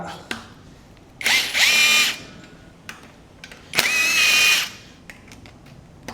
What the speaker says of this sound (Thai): ผมยิงแบบว่ายิงให้น็อตมันหลุดสุดเกลียวเลยนะ